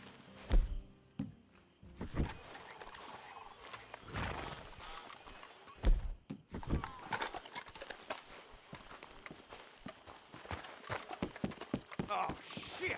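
Horses moving in Red Dead Redemption 2, with clip-clop hoof falls and thuds in irregular bursts, some loud and near, amid rustling and an occasional whinny, while people talk over them.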